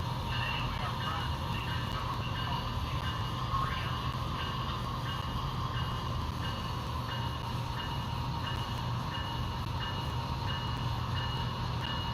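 An HO scale model freight train runs on a layout with a yard, giving a continuous, even rumble and rattle of small wheels on track. The sound stays steady for about twelve seconds with no clear pauses.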